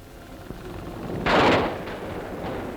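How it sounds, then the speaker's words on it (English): A heavy artillery boom from a 1944 Second World War front on German soil rolls out at a distance, a dull thump swelling and fading over a low rumbling background. "But up forward on that same front, on German soil, the guns are busy."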